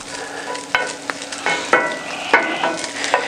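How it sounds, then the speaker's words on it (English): Bacon fries in a pan with its fat rendering out, a close, bright crackling sizzle marked by several sharp pops and stirring scrapes at irregular intervals. "we're getting all the grease, all the fat cooking out of the bacon"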